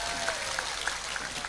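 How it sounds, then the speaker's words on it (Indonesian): An audience at a religious gathering claps for Mas Charlie, a steady patter of many hands close by that runs throughout, with some voices mixed in. "Tepuk tangan untuk Mas Charlie."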